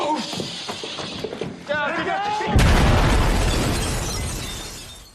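In The Walking Dead, a grenade set beside a glass window at the CDC goes off: people talk first, then a sudden heavy blast with shattering glass roars out and slowly fades.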